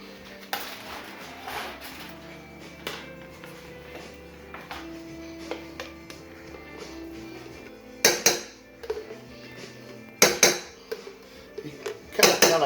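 A spoon working mayonnaise into a dish being prepared to go with baby back ribs, with soft scraping and clinks, then a few sharp clatters near the end.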